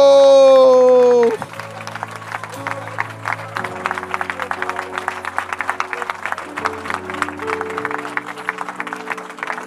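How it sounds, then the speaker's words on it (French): A church congregation breaks into steady rhythmic clapping right after a long sung note ends, the claps continuing close and lively over sustained music for several seconds. "Give the Lord a round of applause."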